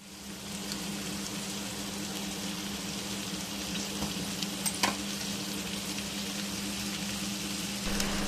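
Vegetables fry in a pan for a coconut-milk veg biryani, a continuous, even sizzle with a brief stirring clatter midway.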